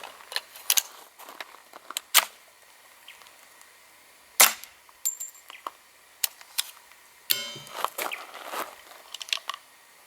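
Squib-load gunshots from a firearm whose action still cycles: a series of sharp, fairly quiet pops and metallic clicks spread across the recording, with light mechanical rattles between them.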